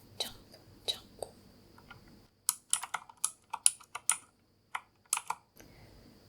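Clacky keystrokes on a Razer keyboard come in uneven bursts, close and crisp, with a faint whisper-like breathiness between taps in a quiet room.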